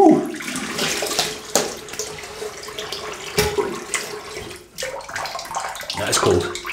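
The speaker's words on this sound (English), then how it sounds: "I'll have a little rinse with cold water." Cold tap water runs into a sink while someone splashes and rinses their face, with irregular splashes and bursts of flow close up.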